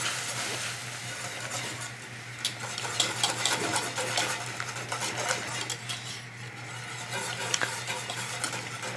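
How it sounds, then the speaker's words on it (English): A whisk works roux into a velouté sauce in a pan, a brisk continuous scraping and swishing with occasional metallic clicks against the pan and a faint sizzle, close and fairly loud, with no talking. "mash that up and get it all whisked in really nice so we don't have any lumps"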